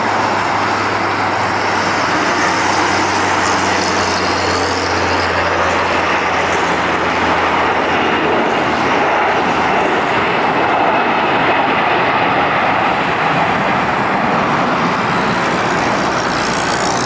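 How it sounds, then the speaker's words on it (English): A jet airliner, an Airbus A340, roars loudly and steadily through a struggling takeoff that barely clears the runway's end, a broad continuous engine rumble with no talk. "First up is this RX Airbus A340 that barely managed to take off before"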